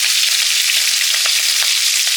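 Panch phoron whole spices crackle and sizzle loudly in hot oil for a village-style greens curry, a steady close frying hiss with small pops.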